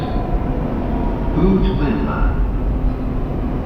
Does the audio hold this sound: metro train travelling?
yes